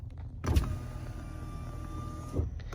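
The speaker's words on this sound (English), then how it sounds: "The window motors and stuff in this car are extremely fast" A fast power window motor in a 2017 Nissan Armada Platinum whirs for about two seconds between soft thumps at start and stop, close and fairly quiet, with no talking.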